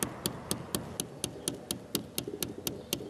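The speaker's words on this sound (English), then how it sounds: "First you start off with that tap." A hand tapping out a steady beat on a surface, crisp evenly spaced knocks about four per second, close and dry, with no talking over them.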